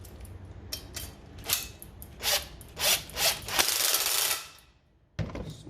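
An Allen key tightens the license plate holder bolts of a Yoshimura rear fender eliminator on a 2018 Honda CBR1000RR, making a series of close, gritty scraping and rubbing strokes in uneven bursts that stop before a final short scrape.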